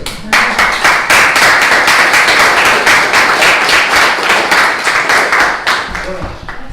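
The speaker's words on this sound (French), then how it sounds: "Applaudissons." A room at a Jalhay town council meeting breaks into applause, a loud close burst of many hands with distinct individual claps, steady for several seconds before thinning out and trailing off at the end.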